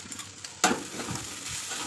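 Poha, flattened rice, frying and being stirred in a pan, a soft sizzle that jumps louder as the spatula scrapes in, then continues evenly at close range.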